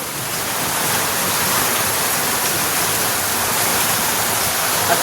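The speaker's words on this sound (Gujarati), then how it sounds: "વરસાદ અત્યારે પાક્કા ઈકી બોલાવી દીધી" Heavy monsoon rain pours down in a dense, unbroken roar close by, steady and loud for the whole stretch with no voices.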